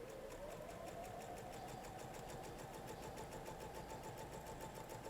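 Sewing machine stitching a quilt block corner with a scant quarter-inch seam, a steady continuous motor whir with rapid needle ticking running throughout.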